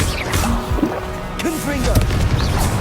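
A Stupefy spell fires in Hogwarts Legacy during a busy fight, a sharp magical crack with a watery burst over dense game effects, grunts and voiced combat chatter.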